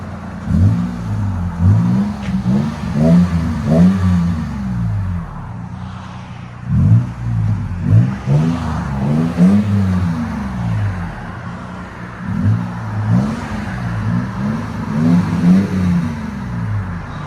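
A Toyota Tacoma 4.0L V6 pickup's engine revs repeatedly through an aftermarket exhaust with a deep, throaty rumble, rising and falling in bursts, close by with no one talking.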